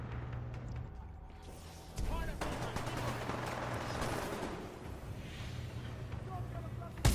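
Gunfire in the Titanfall 2 campaign Kane boss fight on Master difficulty: dense bursts of rapid shots and impacts over droning game music, with a louder crack partway through and a sharp hit at the very end.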